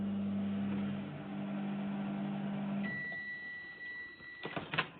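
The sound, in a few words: microwave oven heating damp salt towels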